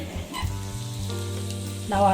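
Hot water poured into jeera rice frying in a pot sets off a loud, close sizzle that hisses steadily and surges sharply near the end.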